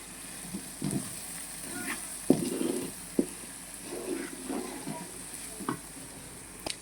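Masala sizzling and frying in oil for Andhra-style fish curry (chepala pulusu), soft steady crackle with occasional sharper pops and stirring scrapes, close and alone.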